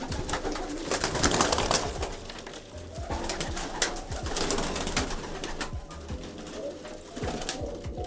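Teddy and Rampuri pigeons in a loft coo continuously, with layered throaty cooing and fluttery bird sounds up close and no pause throughout.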